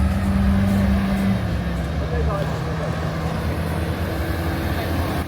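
A New Holland tractor pulling a tanker fitted with wheel guards rumbles past near a ribbon tower, a steady low engine drone that holds loud throughout with a brief tonal hum early on.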